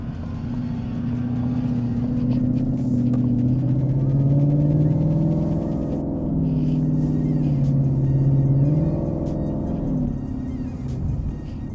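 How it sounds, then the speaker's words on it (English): A 2018 Ford Mustang with an automatic transmission accelerating, its engine drone steady and loud from inside the cabin, pitch rising and dipping as gears shift up and quickly drop back. "where you're accelerating normally, and sometimes the car feels like it upshifted maybe too soon, and it drops back down really quickly"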